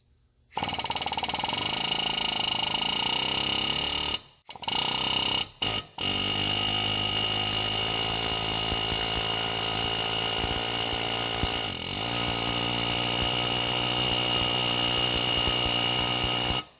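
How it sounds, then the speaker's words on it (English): A loud pneumatic air hammer with a chisel bit rattles continuously at close range against a rusty suspension joint on a 2006 Subaru Forester, broken only by a couple of brief pauses. "take our air impact hammer with a chisel bit and just hit it here and there on either side"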